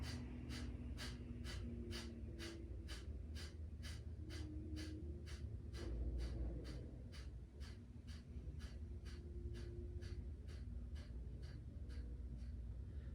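Rapid rhythmic forceful exhales through the nose during a vinyasa yoga breathing exercise, a long even train of sharp puffs about two per second, close and steady, with a brief pause midway before the pulses resume.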